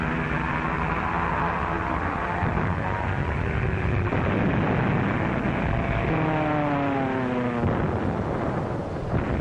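WWII dive bombers and their explosions, propeller aircraft engines droning loudly and steadily throughout with a deep rumble, a rising tonal whine mid-way suggesting a diving plane, no talk.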